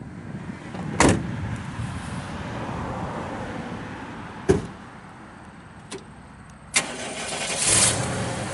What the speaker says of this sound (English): Fires right up being the fuel injected motor.